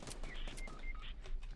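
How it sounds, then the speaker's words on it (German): Rapid gunfire bursts in a Fortnite squad match crack in quick succession over game sounds, several sharp shots clustered within a second and a half. "Sniper-Schuss auf mich von irgendwo"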